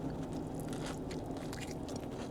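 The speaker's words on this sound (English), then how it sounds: "I don't know if you heard that slight crunch when I bit into that particular piece, because this one has a nice thin bark from the grill" Teeth bite into a thick-cut grilled Pulehu rib with a thin charred bark, giving a few close, quiet crunches and chewing sounds without speech.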